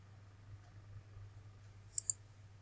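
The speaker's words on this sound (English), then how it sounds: "we just click over here" Two quick, faint computer mouse clicks in close succession, a double click on a quiet desk with low background hum and no talking.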